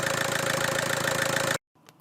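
A 2005 Seat Leon 1.9 TDI diesel engine idling with a steady, even knocking clatter for about a second and a half, then cutting off abruptly into near silence with a faint click.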